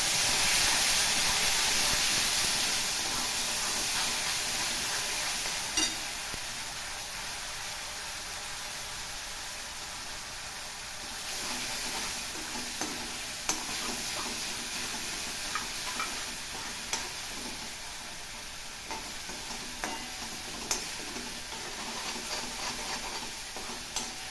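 Raw ground coconut paste for kara kozhukattai sizzles in a hot pan with curry leaves and is stirred, a steady hiss broken by scraping strokes and small ticks, close and alone.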